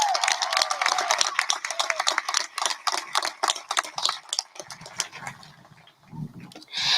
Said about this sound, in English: So let's give it a round of applause for the class of 2021.